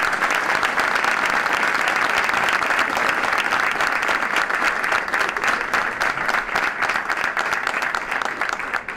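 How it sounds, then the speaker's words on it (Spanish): A crowd at a ceremony renaming the Cecilio Lastra sports hall gives a strong, sustained ovation for the idol Lastra III. Dense clapping from many people continues unbroken for about nine seconds, loud and close. "Ahora tiene que ser fuerte la ovación"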